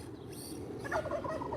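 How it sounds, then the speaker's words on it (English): Turkeys gobble in a short, rapid, warbling burst outdoors, at moderate distance and fairly quiet. "we got more turkeys over here, guys. We got more turkeys."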